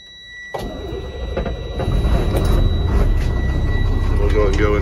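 A bus engine turns over and catches, a quiet start giving way to a sudden crank and then a steady, loud idling rumble with faint mechanical whines on top.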